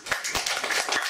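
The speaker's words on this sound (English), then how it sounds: "A round of applause for them." A short burst of audience clapping for the panelists after a panel discussion on Indian elections and data, a few distinct claps close together.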